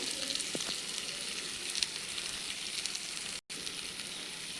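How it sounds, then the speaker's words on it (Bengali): Onions fry in a pan with salt, giving a continuous soft sizzle and crackle that stays fairly quiet, with one brief gap near the end. "পেঁয়াজটাও আমার বেশ একটু ভাজা ভাজা হয়ে এসছে"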